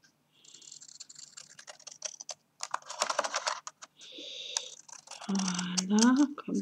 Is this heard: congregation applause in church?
no